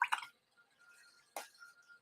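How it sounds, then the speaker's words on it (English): A paintbrush lifted out of a jar of water while painting a model: two short wet splashy drips, the second after a pause, quiet and close with low room noise between. "So let me get my paintbrush out of the water."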